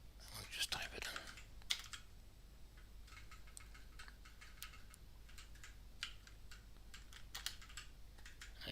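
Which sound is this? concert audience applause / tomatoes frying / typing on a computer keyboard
typing on a computer keyboard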